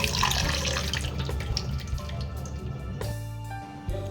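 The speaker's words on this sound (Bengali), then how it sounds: "ভালো করে ধুয়ে নিয়েছি" Whole fish being rinsed under a running kitchen tap, a steady splashing flow of water with gurgles and drips, close and continuous.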